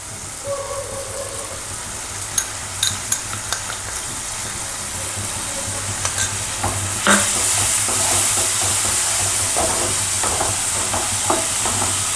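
Ginger garlic paste hitting softened onions in a little hot oil for a dhaba-style egg curry, a steady sizzle and fry with scattered clicks and stirring scrapes, rising louder partway through, with a low engine-like hum underneath.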